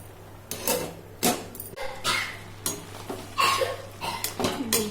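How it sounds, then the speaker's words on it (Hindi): Lid handled on a pot of cooking chench bhaji in a kitchen: a series of close, sharp metallic clanks and scrapes spaced through a few seconds, with no voices. "अब ना मैं थोड़ी देर के लिए इसको ढक कर रख दूंगी।"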